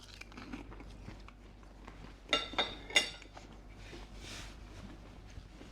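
A few quiet crunchy bites into a Veggie Wellington with mushroom filling, three close crisp crunches amid faint chewing and background clatter.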